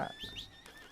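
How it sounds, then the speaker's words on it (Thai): A horse in a video game gives a short, bright whinny, a quick rising and falling cry lasting under a second and heard alone without speech. "มาน้องม้า"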